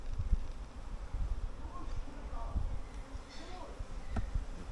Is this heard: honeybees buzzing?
yes